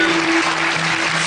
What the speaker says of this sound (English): give me a round of applause now